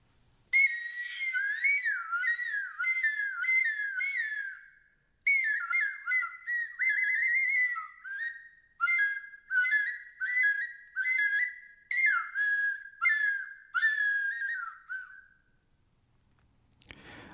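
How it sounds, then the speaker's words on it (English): A clay chromatic pentatonic tubular flute plays a lively, high, breathy melody of short repeated notes in phrases, with brief pauses, alone and fairly close. "This is a chromatic pentatonic tubular flute."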